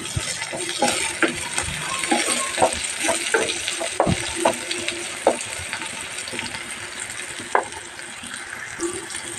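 Chopped tomato frying in a pan of curry base with ginger garlic paste and turmeric for mutton paya: a constant close sizzle with irregular stirring clinks and scrapes, no voices.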